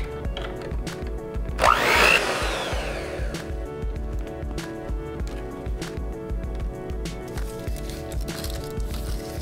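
An electric mixer whips cream for a New York–style cheesecake, a steady continuous whir that holds nearly unchanged throughout, briefly louder with a harsh gritty burst near the start, with no talking.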